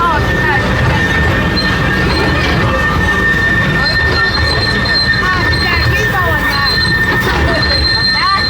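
A theme park train at LEGOLAND Windsor rumbles past up close with steady wheel squeal and a sustained high whine over constant rolling noise, with crowd chatter faintly underneath.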